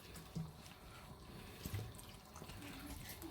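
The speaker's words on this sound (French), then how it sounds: "Donc maintenant, on va continuer à mettre de l'eau." Water poured into a pot of beef shank stew with tomato paste and beer, a faint continuous trickle and splash with a few small knocks, close but quiet.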